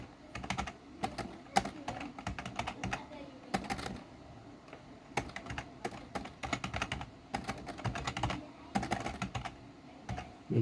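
Keys on a computer keyboard clatter in quick irregular bursts with short pauses, close and fairly soft, as code is typed.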